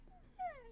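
Minecraft wolves whimper during a thunderstorm in video game play, with two short high whines, the second louder and falling in pitch, quiet and close.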